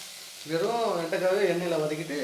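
Chopped onion sizzling in a hot pan for an okra stir-fry, a soft steady frying hiss under a voice, who talks through most of it.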